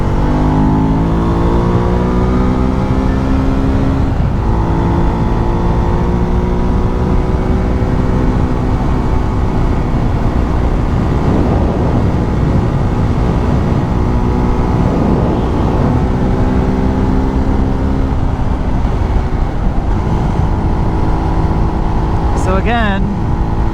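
Husqvarna Svartpilen 401 motorcycle cruising at highway speed, a loud continuous engine drone with steady harmonic whine and wind rush throughout, shifting slightly in pitch near the middle.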